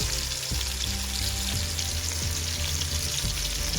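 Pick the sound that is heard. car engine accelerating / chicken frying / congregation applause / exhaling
chicken frying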